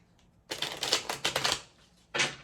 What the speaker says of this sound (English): Well, I like to cut the deck,